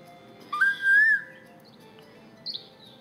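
A Dr. Seuss iPad storybook app plays cartoon birdsong: a bright rising whistle with a short chirp, then a brief second tweet a moment later, clear and alone over a faint background hiss.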